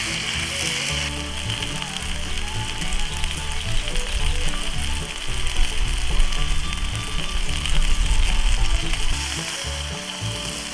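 Chicken sizzles and crackles steadily as it fries in a pan, a dense, loud frying hiss running throughout with layered background music.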